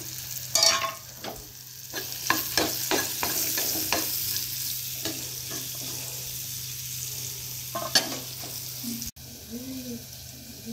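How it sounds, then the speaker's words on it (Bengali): Bitter gourd frying in a home kitchen pan, with a soft steady sizzle and repeated clinks and scrapes of a spatula stirring, a sharp knock near the end, and no voices. "এখানে করলা ভাজা হচ্ছে"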